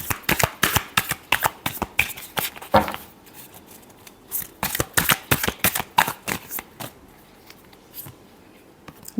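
A deck of tarot cards is shuffled by hand, with bursts of rapid riffling flutters broken by short pauses, close up and crisp, with no voice over it.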